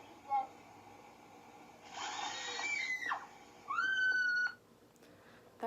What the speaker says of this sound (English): That was like the fakest scream I've ever heard come out of my mouth.